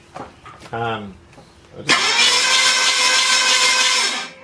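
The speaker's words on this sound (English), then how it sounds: "I'm just going to crank the engine over." A junkyard V8 engine with its spark plugs removed is cranked over by the starter: a loud, steady mechanical whirring begins after a brief voice and runs unbroken to the end.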